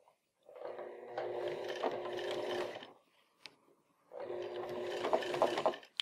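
Sewing machine stitching waxed canvas backpack straps, two bursts of steady mechanical whirring stitching separated by a short pause with a light knock, close and moderately loud.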